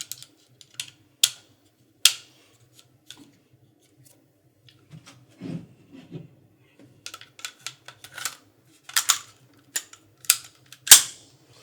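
A Sig Sauer P320 pistol fitted with a compact slide and full-size magazine is handled and dry-fired, giving sharp, close mechanical clicks and snaps scattered irregularly over quiet gaps, with a few dull knocks midway.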